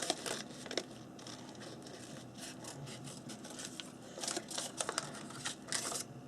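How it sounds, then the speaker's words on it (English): Scissors trimming around a paper cutout for a craft, giving scattered crisp snips and paper rustles at close range, busier toward the end, with no talking. "I'm just trimming around the part that I want"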